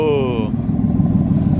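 A 5.3 engine breathing through true dual straight pipes from the cats, with the third cat deleted, gives a deep, loud low rumble right after a brief voice, steady with slight pulsing.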